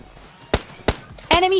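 Gunfire in the mobile battle-royale game PUBG Lite: two sharp shots spaced apart, then a louder burst with ringing tail, fairly close and prominent over a quiet background.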